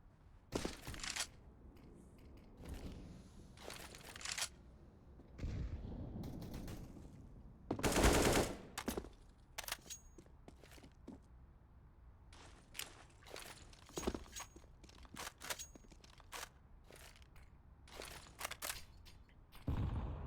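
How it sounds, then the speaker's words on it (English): Rifle fire and grenade explosions during a competitive Counter-Strike-style match, with AK shots and HE damage: scattered sharp bursts and single shots across the clip, one loud dense blast near the middle, and quieter footsteps between. "Ustillo taking a lot of HE damage and a couple AK shots to the abdomen"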